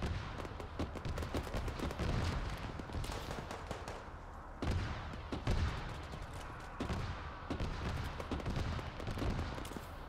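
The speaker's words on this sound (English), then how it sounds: "that's a BMP shooting" A BMP infantry fighting vehicle fires in a rolling string of sharp, heavy reports, dense and loud throughout, with a couple of stronger bursts standing out amid continuous combat noise.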